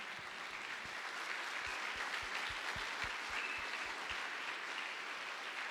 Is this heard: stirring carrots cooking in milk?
no